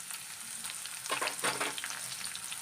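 Onions fry in hot oil, giving a soft, continuous sizzle with a brief livelier burst of crackling in the middle, fairly faint and without voices.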